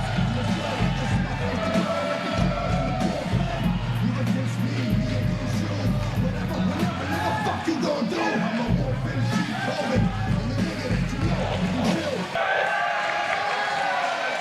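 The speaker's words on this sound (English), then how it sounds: "As the crowd greets Jordan Lennox" Wrestling crowd at a live pro wrestling event, a continuous roar of cheering and chatter filling the hall throughout, with a voice speaking over it.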